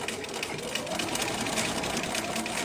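A sewing machine stitches along the edge of a handmade bag, a steady close mechanical whir with a fast, even stitching rhythm running continuously throughout.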